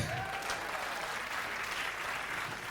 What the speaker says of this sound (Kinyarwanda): Amashyi guys.